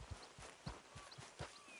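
Horse hooves clopping at a walk in a PS4 video game, soft, evenly spaced footfalls over a faint background.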